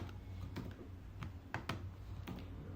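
Code being typed on a computer keyboard: a quiet, uneven run of light key clicks close by, with a few sharper taps standing out over a low background hum.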